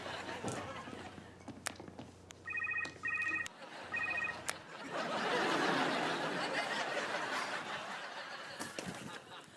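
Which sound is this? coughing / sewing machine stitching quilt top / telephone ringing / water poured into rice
telephone ringing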